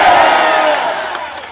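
Renaissance Faire crowd yelling a loud, sustained yeah in unison at an outdoor stunt show, the massed shout starting strong and slowly fading over a second and a half.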